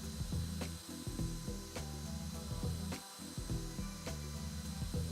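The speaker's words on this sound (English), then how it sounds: "so my machine doesn't bog under the stress of cutting the metal" An X-Carve CNC machine mills a metal face plate, giving a close, steady mechanical whir with regular pulsing passes and faint rhythmic clicks.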